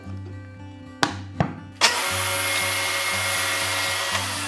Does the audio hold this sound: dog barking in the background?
no